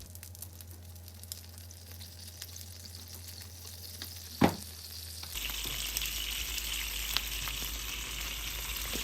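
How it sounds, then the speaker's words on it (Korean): Fish cake sizzles and fries in a pan as soy sauce is added, a steady crackle that jumps louder and brighter after a sharp clack midway, with stirring through it and no voices. "어묵은 맛간장과 올리고당을 추가해 볶아주겠습니다."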